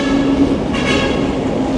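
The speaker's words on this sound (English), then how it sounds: "There goes the train." LRT light rail train passing along an elevated line in Manila, a loud, steady rumble with rolling wheel noise throughout, close by and with no talking.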